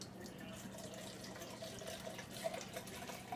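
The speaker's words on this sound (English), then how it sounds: "Then you're going to get your tequila and pour a whole can" Tequila is poured from a can into a blender of margarita mix, a faint, soft stream of liquid splashing continuously at close range.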